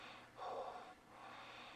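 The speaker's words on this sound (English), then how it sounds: "we put in the heavy breathing for something" Heavy breathing effect from a 2006 werewolf horror film, a single faint, drawn-out breath swelling briefly and fading, heard alone over a quiet background.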